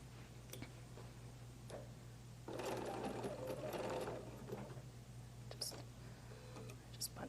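A sewing machine stitches a quilted zip-up bag in a short, close burst of steady mechanical whirring, with faint clicks and handling noises before and after.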